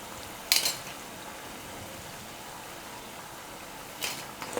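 Slotted spoon lifting fried medu vadas out of hot oil, with a faint steady sizzle throughout and two brief metallic scrapes and clinks, one near the start and one near the end.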